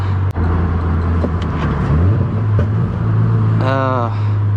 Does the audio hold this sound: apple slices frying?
no